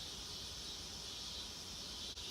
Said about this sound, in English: Let's just listen to the cicadas for a minute.